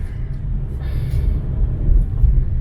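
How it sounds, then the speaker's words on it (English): A car drives along on a Cebu road in the Philippines, its engine a steady low rumble close inside the cabin that shifts slightly as the gear changes, with no talk during it. "Let me just change gear."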